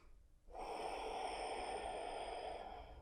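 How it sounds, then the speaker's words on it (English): Steady, audible Ujjayi breath drawn through a constricted throat during a power flow yoga session, starting after a brief pause and holding as one continuous, close, hissing breath until the end without any talk. "Use that Ujjayi breath to keep you here"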